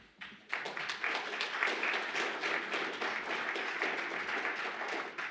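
Audience applause for Chris at a credit and collections think tank session, building quickly into steady, even clapping from a room of people that holds for several seconds.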